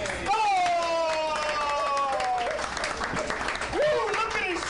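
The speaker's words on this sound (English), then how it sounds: "Everybody please give a warm applause for the beautiful Kia Ball!" Crowd applause and cheering for performer Kia Ball as she is welcomed onto a Pittsburgh sports talk show, with loud whoops and shouted voices riding over sustained clapping.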